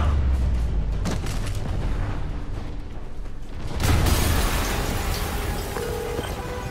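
Explosions during the fight against Fisk in Marvel's Spider-Man, a deep rumbling blast followed by a second heavier boom with crackling debris, loud and continuous over game sound effects.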